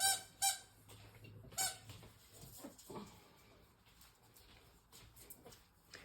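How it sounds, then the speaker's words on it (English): A dog plays with a squeaky toy, producing sharp, close squeaks in quick bursts near the start that thin out into fainter, scattered squeaks and rustling. "that's my dog Toast playing with this ungodly squeaky pair."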